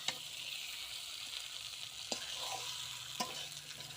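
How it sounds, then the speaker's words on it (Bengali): Chicken kosha fries in a pan with a soft, steady sizzle and a few sharp clinks of a utensil stirring against the metal, close but quiet. "এই যে আমি এখন চিকেন কষা রান্না করছি।"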